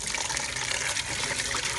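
Tap water running in a steady, splashing gush to rinse freshly dug sand worms, close and moderately loud for a brief stretch with no pauses.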